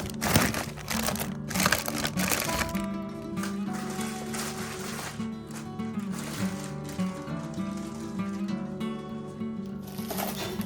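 Plastic packaging crinkles and rustles as kitchen utensils brought over from India are unpacked, steady close handling noise running throughout with no talk.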